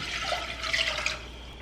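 Water pours into a pot on a stove for a flaxseed hair gel, a steady splashing stream heard close and clearly, easing off toward the end with no voices.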